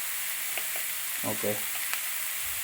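Banana blossom thoran with turmeric sizzles softly in a pan while being stirred, giving a faint steady crackle with a few scraping clicks; a voice speaks briefly.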